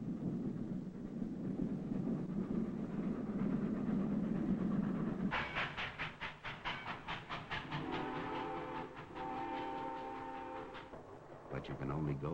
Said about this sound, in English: The one sure way to get someplace is on a train.